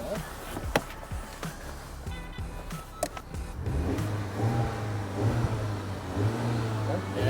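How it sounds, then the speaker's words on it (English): Honda Civic Type R FK8 with a wrecked body, its engine revving after a few clicks and thumps, the revs rising into a steady, moderately loud drone near the car. "Let's give it a rev."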